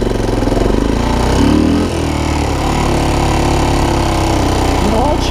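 A worn Honda TRX250 ATV engine with no first gear is held on the throttle to keep it from stalling, giving a loud, steady, rough revving drone that swells briefly and dips before settling into an even run.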